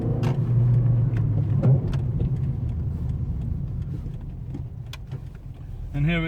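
A Seat Leon 1.6 accelerates with a low, steady engine rumble from inside the cabin, the drone fading slightly as speed builds while someone talks over it.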